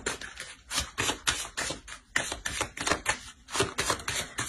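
A tarot deck shuffled by hand to draw one more card, making rapid, crisp riffling and snapping close up, fairly loud, with no voices.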